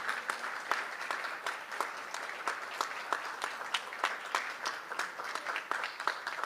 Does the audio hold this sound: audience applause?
yes